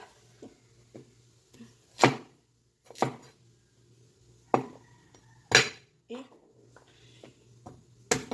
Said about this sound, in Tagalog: Nagdukduk day tug luya.